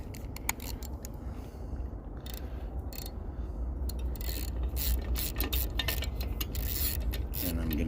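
A ratchet socket wrench works on an old engine with worn compression, giving a steady run of rapid, close metallic clicks for several seconds over a low mechanical rumble, with no one talking.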